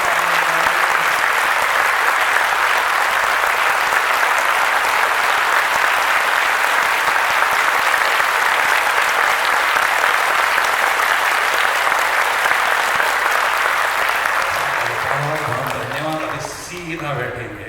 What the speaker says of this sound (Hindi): इसलिए अभी जोरदार तालियां बजाएंगे सभी